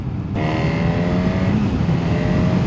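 The engine of a 2025 Honda Hornet CB1000 motorcycle, a slightly detuned unit taken from the 2017 Honda Fireblade, holds a loud, steady, close humming drone with a faint tonal whine riding on top.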